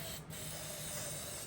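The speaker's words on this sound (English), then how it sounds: "We'll spray that in there." Hairspray with humidity protection is sprayed from an aerosol can into a handlebar grip for a pit bike handlebar kit, a short continuous hiss, close and fairly quiet, with no talking.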